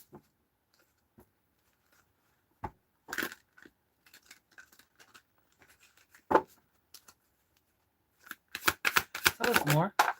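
Cards are shuffled by hand in sporadic bursts, with scattered light clicks and taps building to a dense riffling flurry near the end, close and fairly quiet against a mostly silent background.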